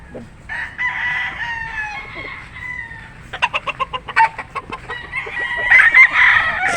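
A Gilmore street-breed gamefowl rooster crows loudly and close, its long call followed by a run of sharp rhythmic clucks and another crow, with other fowl faintly in the background.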